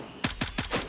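Four rapid gunshots crack out in quick succession from a rifle in the video game Gray Zone Warfare, sharp and fairly close, evenly spaced over about a second with no talk.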